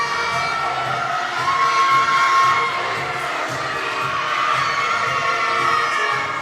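A crowd at a boxing match cheers and shouts in a steady loud roar, with high voices and whistles rising above the din.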